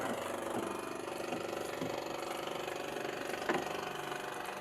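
A motorcycle engine idles steadily with a low, continuous rumble and faint periodic knocks, no voices present.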